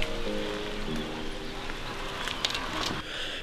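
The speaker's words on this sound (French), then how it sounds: "il pleut des cordes" Heavy rain falling outdoors high in a village above a valley: steady soft patter and hiss of rain with a few sharper drops and rustles, fairly faint, with a brief low murmur near the start.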